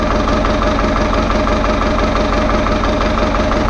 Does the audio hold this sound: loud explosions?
no